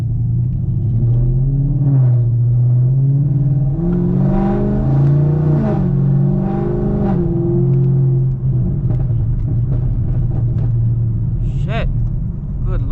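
A straight-piped Camaro drives on backroads with a loud, deep exhaust drone that rises and falls through gear changes, then crackling pops, heard up close from inside with a voice talking over it.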